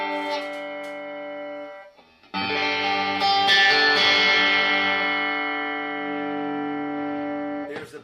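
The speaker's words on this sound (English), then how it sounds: "So I'm going to put on the distortion here." Reverend electric bass played through a distortion effect, a sustained gritty chord that cuts out briefly, then returns louder and rings on with a fuzzy, buzzing tone.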